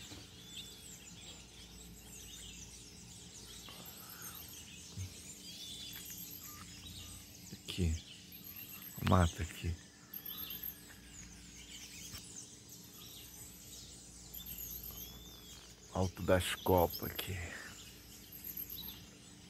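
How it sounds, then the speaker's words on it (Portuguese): Birds singing in the forest canopy in Amapá, Brazil, faint scattered chirps over a quiet insect hum, with someone talking softly and a few louder bursts of handling noise. "Vamos ouvir os pássaros aí, ó, os passarinhos."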